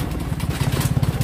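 A motorcycle engine running close by, a rapid, steady putter of firing pulses that stays loud and even for the whole short stretch, with no talking.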